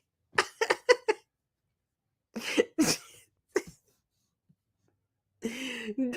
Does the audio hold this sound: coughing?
yes